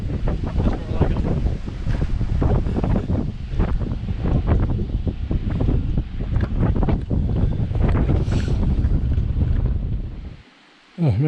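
Steady, loud wind buffeting the microphone while riding in the open back of a pickup truck, a continuous roar for about ten seconds before cutting off abruptly near the end.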